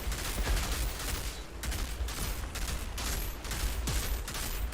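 Sustained gunfire in the Outriders video game, with rapid overlapping volleys of shots in uneven bursts. The firing is fairly quiet and continuous, with no talk.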